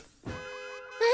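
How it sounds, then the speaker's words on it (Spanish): A cartoon alarm sounds briefly in a children's animated show, a short electronic tone that rises and holds a steady pitch for about a second. "¡Oh! ¡Ahí va! ¡Una alarma!"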